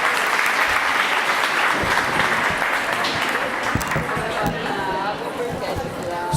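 Sustained applause fills a municipal chamber during a public hearing on a teachers' statute, a dense continuous clapping crowd with some chatter mixed in.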